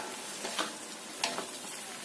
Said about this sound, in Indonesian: Kita aduk-aduk seperti ini ya